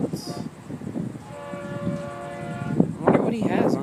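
FEC train 141 hauled by old classic locomotives rumbles past nearby with a loud, sustained tonal horn blast over steady rail noise, and people talk through it.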